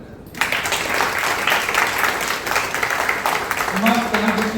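Applause breaks out from the audience at a railway board poetry gathering, a dense steady patter of many hands that starts abruptly and holds loud throughout, with a voice rising briefly near the end.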